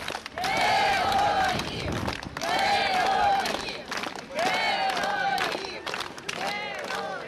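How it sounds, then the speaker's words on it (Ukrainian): A crowd greeting a bus of soldiers applauds and chants "heroes" in repeated rhythmic waves, each chant loud and sustained, with clapping running underneath and brief lulls between shouts. "Автобус із військовиками люди зустрічали, аплодуючи і скандуючи герої."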